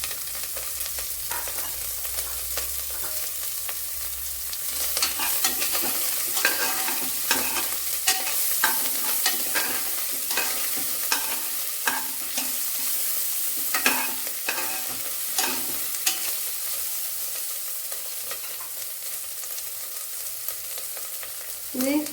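Chopped onion and ginger fry and are stirred in a pan for vegetable biryani, giving a steady close sizzle broken by frequent scraping and clattering strokes of the spoon, with no talk.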